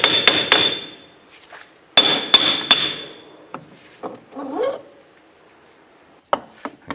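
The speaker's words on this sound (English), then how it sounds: "Just continue tapping on the hub," A hammer tapping on the wheel hub of a 2005-10 Jeep Grand Cherokee during a wheel bearing and hub replacement, sharp ringing metallic strikes in two quick clusters, then softer scattered knocks and clinks, close up.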